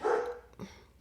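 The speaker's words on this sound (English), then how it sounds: "sorry if you can hear my dog barking" A pet dog gives a single sharp bark indoors, close and loud, followed by a softer short yip, while no one talks.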